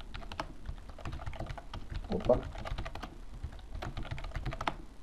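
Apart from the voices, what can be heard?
typing on a computer keyboard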